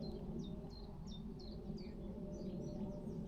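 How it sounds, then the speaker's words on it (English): Several birds sing outdoors in the countryside during a hike, bright chirps and short whistled phrases repeating over a steady low background rumble, fairly distant and soft. "Hearing lots of birds."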